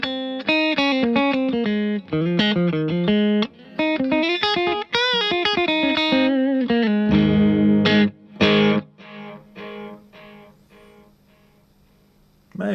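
Clear plastic V-pick strums and picks an electric guitar run through an echo effect, loud melodic phrases with repeating trailing echoes, then a few louder chords fading into decaying repeats.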